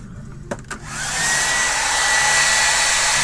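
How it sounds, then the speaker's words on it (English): A hair dryer blows steadily on a page in an art journal after a couple of brief clicks or bumps, its loud, even airflow whoosh filling the space up close. "let's dry this for just a minute"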